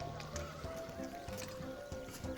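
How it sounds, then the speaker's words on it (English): A horse in a stable in the video game Repella Fella gives a faint low whinny with soft hoof shuffles, quiet and somewhat distant over a steady ambient hum. "It's a horse."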